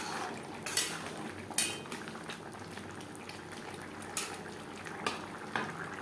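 A prawn, cauliflower and potato curry simmers and bubbles in a pan on a gas flame while a spoon stirs it, with a steady soft sizzle and occasional sharp metallic scrapes and clinks, close and quiet, no voices.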